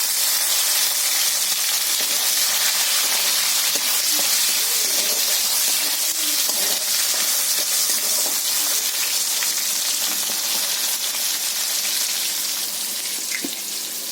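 Bay leaves and tomatoes hit hot oil in a pan for a potato and green pea dum, giving a steady, fairly loud hissing sizzle that holds for the whole stretch with no talking.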